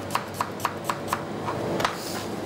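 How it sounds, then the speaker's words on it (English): An apple is chopped with a knife on a cutting board, giving five crisp, evenly spaced knocks followed by a few softer, quicker cuts, close and clear with no talking. "you can always literally get the apple on the board and just chop like so"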